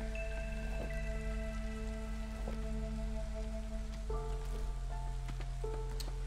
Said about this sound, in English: Any game that has rain, I adore. I just love the sound of rain.